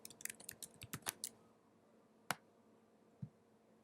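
Brief burst of keystrokes on a computer keyboard, a quick run of close, quiet clicks followed by a few isolated taps after a pause, with no talking.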